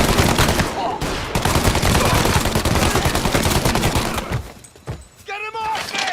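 Rapid gunfire in Mafia Definitive Edition, dense bursts of shots rattling continuously for several seconds before briefly dropping off, with voices shouting over the combat.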